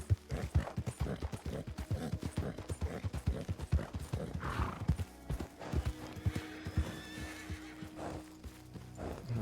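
Horses in a Red Dead Redemption roleplay game clip-clop along in an uneven trotting rhythm, with a whinny and other horse sounds partway through, heard fairly close and fairly quiet.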